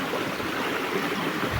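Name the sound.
water flowing over rocks at Tunki waterfall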